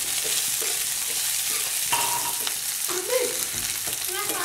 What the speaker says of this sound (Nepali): किनिमालाई यसरी फ्राई गर्ने त्यसरी यसलाई फ्राई गरेपछि तपाईँको यो